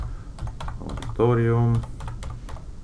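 Quick clicking of a computer keyboard as a web address is typed, light irregular taps close by, with a short spoken word in the middle.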